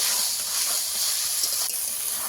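Fish sizzles in a hot pan on a high flame as it is sautéed, a steady close hiss of frying with faint scraping, continuous and unbroken, with no voices.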